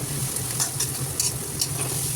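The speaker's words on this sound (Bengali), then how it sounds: "এর মধ্যে একটু রসুনও অ্যাড করে নিয়েছি" Onion and garlic frying in a pan with oil, a steady close sizzle with a few light scraping stirs over about two seconds, no voices.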